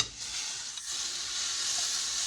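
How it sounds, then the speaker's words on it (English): Vegetables being stirred while they fry in a pan, giving a steady close sizzle and hiss with a soft scrape partway through, and no one talking. "Stir up my vegetables."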